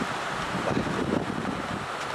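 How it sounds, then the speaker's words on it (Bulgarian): A steady rushing heat pump fan noise, broadband and continuous, with a soft airy whoosh and no voices. "Това е шума на вентилатора,"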